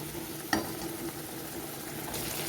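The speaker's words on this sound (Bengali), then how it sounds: "এখন খুব ভালো করে ফুটে যাবে আর গা মাখা মাখা হয়ে যাবে।" Eggplant and peanut gravy simmers in a pan with a soft, faint bubbling sizzle and one brief clink near the start.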